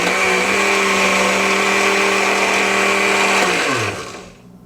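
A BLACK+DECKER BL2010BG blender with a glass jar runs at speed 6, giving a loud, steady motor whine for about four seconds before it winds down and stops.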